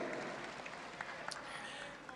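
An audience claps steadily at a Golkar 58th anniversary rally, a dense, fairly distant wash of applause running throughout.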